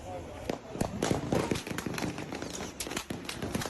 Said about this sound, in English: there's a literal shootout right next to them. They think it's fireworks.